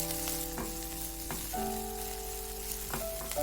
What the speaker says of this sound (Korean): 양파를 넣고 살짝 볶아줍니다